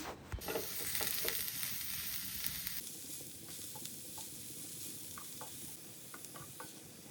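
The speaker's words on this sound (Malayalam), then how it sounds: "പിന്നെ സവാള കട്ട് ചെയ്തതും കുറച്ച് ഉപ്പും കൂടി ചേർത്ത് കൊടുത്തിട്ട് ഇതൊന്ന് നന്നായിട്ട് വഴറ്റിയെടുക്കുകയാണ്" Chopped onions and salt sauté in hot oil in a pan for bread pola, giving a steady sizzle with occasional scraping stirs, close and continuous without talk.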